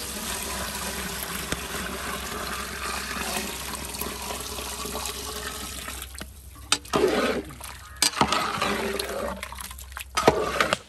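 Water is poured into a cooking pot for a jackfruit vegetable biryani, a steady splashing rush that runs continuously for several seconds, then breaks into uneven gushes and splashes near the end.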